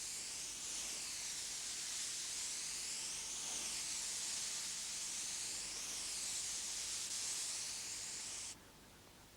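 A spray gun hisses steadily and softly as it lays a thin flowing coat of Autocryl filler on a car panel in an Alfa Romeo refinishing job, sweeping back and forth before stopping abruptly.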